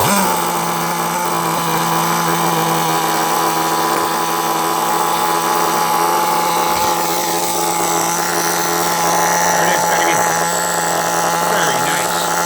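A vintage 1999-era HPI Nitro RS4 Racer 2 nitro RC car engine idling and revving, a loud, close, steady high-pitched buzzing whine that holds throughout.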